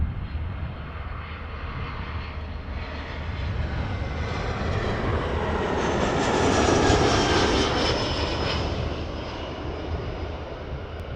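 An Air Canada Airbus A321 jet at Toronto Pearson airport gives a steady, broad engine roar that swells to a peak and then eases off as it passes at a moderate distance.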